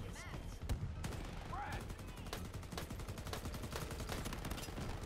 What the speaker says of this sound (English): he's got a minigun